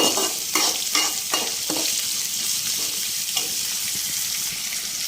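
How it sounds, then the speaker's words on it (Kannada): Peanuts frying in a pan over a raised flame, a steady hiss of sizzling broken by several sharp stirring scrapes early on, close and fairly loud with no voices. "ಸೊ ಇವಾಗ ಸ್ವಲ್ಪ ಉರಿ ಜಾಸ್ತಿ ಮಾಡಿದ್ದೀನಿ ಸೊ ಚೆನ್ನಾಗಿ ಫ್ರೈ ಆಗಲಿ"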